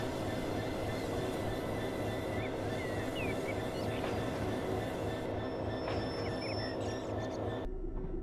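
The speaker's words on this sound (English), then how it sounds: "I'm going to apply the brakes and bring us to a stop" A Class 66 diesel freight train in Train Simulator 2015 brakes to a stop near Ravenstruther, giving a steady low rumble with faint, thin wheel squeals near the end before the noise cuts off abruptly.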